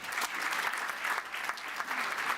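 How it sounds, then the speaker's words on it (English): Applause rolls through a university graduation ceremony hall, with continuous, fairly distant clapping that stays steady throughout. "And another round of applause, please."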